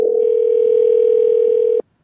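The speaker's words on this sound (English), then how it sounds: "Can you hear the phone ringing, Rob?" A telephone tone sounds as a single steady, unbroken electronic hum, loud and close, holding for nearly two seconds before cutting off abruptly into silence.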